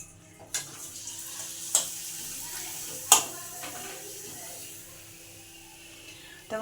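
Papad frying in hot oil for a dinner of hot rice and papad: a soft, steady sizzle with a few sharp crackles and pops standing out, fairly quiet and close.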